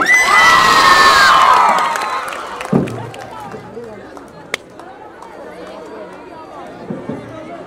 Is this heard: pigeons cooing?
no